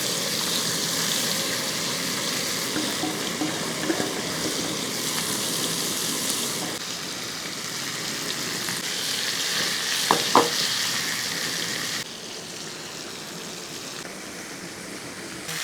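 Mackerel coated in masala fries steadily in a pan, a continuous loud sizzle with a couple of brief clinks near the end and the hiss easing slightly toward the close.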